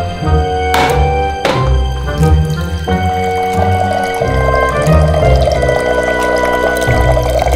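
Water pours into a container, a loud close stream whose tone rises as it fills, with a couple of sharp knocks near the start.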